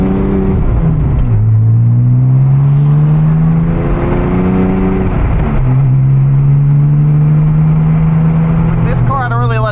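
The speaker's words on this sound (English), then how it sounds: "let's go rip around in the Porsche a little bit" A Porsche 911 Turbo engine accelerates loudly through the gears on a cold start, pitch rising and then dropping at each shift, heard up close from inside the car.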